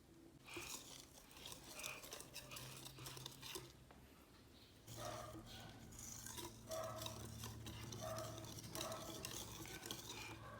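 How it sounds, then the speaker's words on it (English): Pancake batter with egg being stirred in a bowl, with a steady scraping and swishing of the utensil against the bowl that continues for about eleven seconds at a moderate level, with brief pauses. "mix well."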